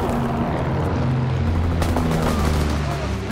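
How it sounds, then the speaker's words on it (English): Enemy recon aircraft from Call of Duty: WWII droning overhead during a Team Deathmatch on the Shipment 1944 map. A steady low engine hum fills the whole clip, with gunfire crackling over it and a voice speaking on top. "Enemy recon aircraft observed."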